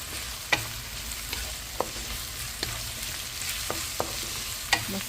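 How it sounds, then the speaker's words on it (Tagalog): Sliced onions sauté in a hot oiled pan for beef igado, giving a steady close sizzle broken by sharp clicks and scrapes of a spoon stirring against the pan. "Inuna natin igisa ang sibuyas bago ang bawang."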